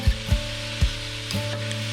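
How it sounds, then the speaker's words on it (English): Onions sizzling in butter in a Dutch oven over medium heat, a soft steady fizz under three hollow thumps of a spoon stirring against the pot, close up. "And now you just want to stir these onions around."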